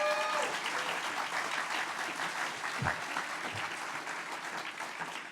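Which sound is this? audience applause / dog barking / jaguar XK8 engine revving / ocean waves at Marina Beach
audience applause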